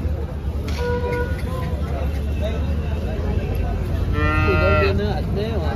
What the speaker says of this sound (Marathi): हे बघा मित्रांनो, गाई बघा